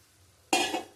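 Water poured into a pan of sizzling potatoes cooked with tomato and ripe chilli brings a sudden loud hiss halfway through, dying away over a second after quiet kitchen background.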